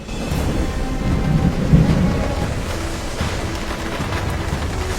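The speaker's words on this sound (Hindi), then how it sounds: "अचानक बारिश शुरू हो गई।" Steady rain pouring down with a continuous hiss, accompanied by low rumbling thunder, no voices.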